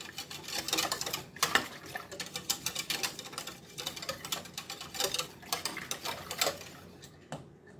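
A whisk rapidly scraping chocolate pie filling around the sides of a pot, a fast, steady metallic clicking and rattling at moderate volume that stops near the end.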